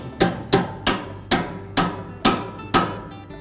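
Seven sharp metal hammer strikes at a steady pace, close and alone, tapping a mounting stem onto the shaft of a Whirlpool washer transmission during a tub seal replacement.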